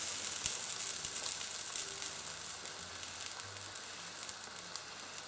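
A ham and cheese toastie fries in a pan with a steady, soft sizzle and crackle that runs evenly throughout, with no one talking.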